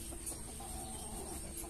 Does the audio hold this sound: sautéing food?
no